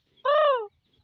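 A single harsh, drawn-out caw, like a crow's call, mimicked by a parrot, lasting about half a second.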